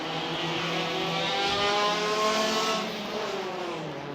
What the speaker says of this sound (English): It's Nikan Param that gets away quite smartly then as the cars accelerate down towards turn 1 for the first time